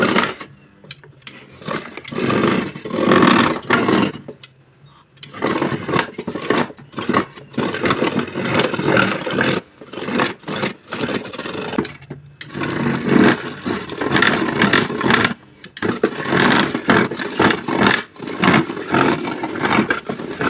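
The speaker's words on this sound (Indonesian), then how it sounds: "siap untuk kita giling dengan mesinnya guys ya. kita hidupkan terlebih dahulu" An ice cream grinding machine runs in irregular bursts, a rough motor whir with scraping, broken by repeated short pauses as the frozen ice cream is shaved.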